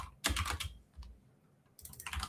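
Fingers type on a computer keyboard in quick bursts of close clicking keystrokes, with a pause in the middle before another flurry of keys.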